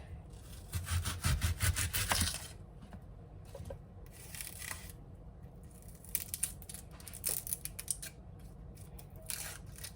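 A sharp knife slicing vegetables very thin on a board for pickling, with quick rhythmic cutting strokes building early on, then softer intermittent slices and scraping close by.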